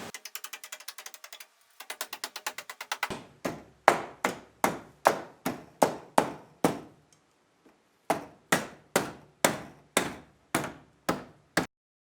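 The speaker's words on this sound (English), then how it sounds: "hammer the inner arch outward to meet the outer arch" A hammer striking a car's inner wheel arch outward on a Nissan 240SX fender, first rapid light taps, then a run of loud, evenly spaced metallic blows with a short pause midway, close and alone.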